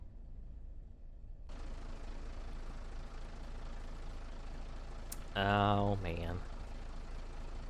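An M-ATV all-terrain vehicle engine in the game SQUAD rumbles steadily at a low drone while crawling over terrain, briefly rising with a harsher revving surge near the end, with a short exclamation from a man.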